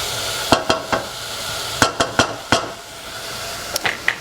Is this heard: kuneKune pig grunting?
no